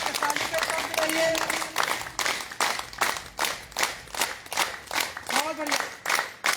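Loud group hand clapping from a morning fitness yoga session, rhythmic bursts that grow more distinctly pulsed toward the end, with an instructor calling out over them.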